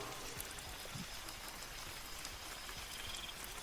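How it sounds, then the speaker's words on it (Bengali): Light, steady rain in a cartoon night scene on a forest path, a soft continuous patter of drops throughout, faint and even with no speech over it. "হালকা হালকা বৃষ্টি,"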